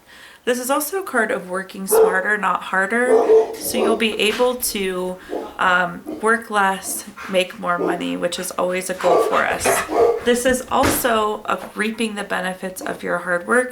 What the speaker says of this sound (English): Sorry if you guys can hear the dogs barking in the background.